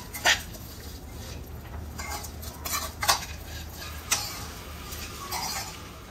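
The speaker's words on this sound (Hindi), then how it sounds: "थोड़ा सा घी ऐड करके ही ड्राई फ्रूट्स को फ्राई करना है।" Dry fruits frying in a little ghee in a pan, with a spoon stirring and clinking against the metal in scattered taps over a faint, steady sizzle, close and fairly quiet with no talking.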